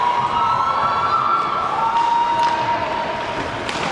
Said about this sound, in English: Filipino fans cheering on.